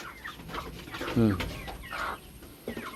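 Chicks in a chicken brood chirp and peep in short calls, with a couple of louder clucking bursts from nearby fowl.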